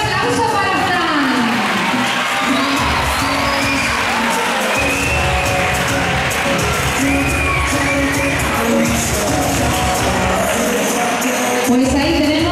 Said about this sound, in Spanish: Fuerte el aplauso para Fran